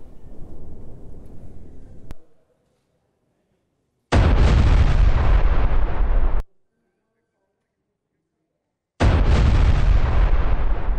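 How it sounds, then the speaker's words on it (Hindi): A land mine detonation blows up a Hezbollah tunnel in Lebanon. Each deep, heavy boom roars for about two seconds and stops abruptly. Several blasts are separated by silence, loud and close. "हिजबुल्ला की सुरंग को लैंड माइन से कैसे उड़ाया गया ये देखिए आपके सामने।"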